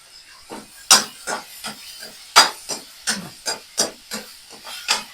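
Crushed shallots and chilli drop into a frying pan of sautéed onion for a long-bean payar curry. Sharp hisses and spattering pops come in quick, irregular bursts, close and moderately loud.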